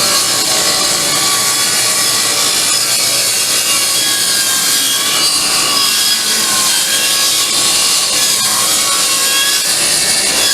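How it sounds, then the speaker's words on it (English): A table saw rips through wood stock about half an inch oversize while rebuilding a wheelbarrow, a steady loud whining cut holding for the whole stretch with no talk. "So I'm going to cut it on the table saw."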